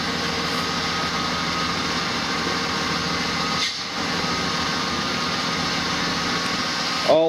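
Ford Mustang engine from the 1979–2004 era idling steadily and close by, a constant broadband hum with no talk over it, while the steering wheel is turned back and forth.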